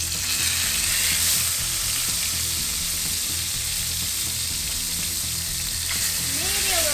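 Fish fries in olive oil in a hot pan, making a dense, loud, steady sizzle close by that holds unbroken throughout.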